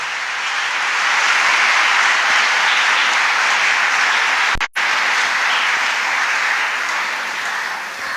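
Loud, sustained applause from a church congregation at a fourth Advent Sunday Mass, with thick, even clapping and a brief sharp break midway.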